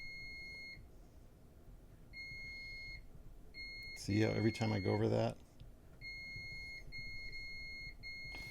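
Electronic alarm beeps in short repeated bursts from a Nortec 600 eddy current flaw detector scanning over a surface flaw, a steady high tone pulsing on and off, pausing while someone briefly speaks.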